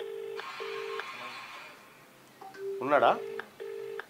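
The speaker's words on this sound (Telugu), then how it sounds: "ఆయనకే ఫోన్ చేద్దాం" A phone call connects with repeated steady electronic tones separated by short gaps. A voice briefly speaks partway through.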